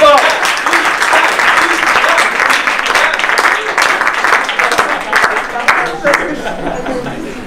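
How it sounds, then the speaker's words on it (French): A theatre audience at a science cabaret applauds a volunteer called up on stage, with steady dense clapping filling the room and a few voices mixed in beneath it. "On peut l'applaudir bien fort."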